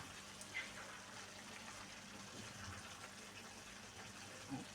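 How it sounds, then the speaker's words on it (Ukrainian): A little water is poured into a pot of buckwheat pilaf with pork, making a soft, steady trickling and gushing that runs quietly and evenly throughout. "Долили ще трішки води, бо та вже википіла."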